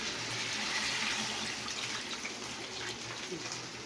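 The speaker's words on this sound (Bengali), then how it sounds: "এবার আমি জল দিয়ে দিই" Water is poured into a cooking pot, making a steady, soft, continuous rushing pour close by, with no talk over it.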